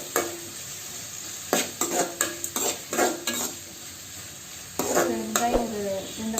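Onions sauté in oil for sambar, a soft sizzle under repeated stirring strokes, with a spoon or spatula scraping and tapping the pan in an uneven rhythm.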